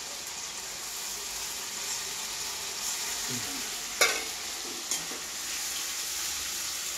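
Ginger, garlic and dried red chilli paste is stirred as it fries in a pan, a steady close sizzle with a few sharp scrapes of the spoon partway through.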